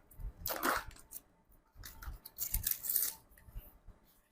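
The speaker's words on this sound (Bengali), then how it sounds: "আপনাদেরকে যদি এটা একটু খুলে দেখাই, দেখেন এইটা হচ্ছে আমাদের একদম ফয়েল করা থাকে।" A foil-sealed packet of ready-to-eat dried shrimp balachao being opened, quiet close crinkling and tearing rustles in a few short bursts with brief pauses between them.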